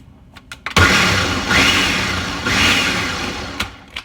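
A blender blending handfuls of greens for a green smoothie whirs loudly for a few seconds after a sharp start, its motor roar rising and falling before cutting back to a few faint clicks.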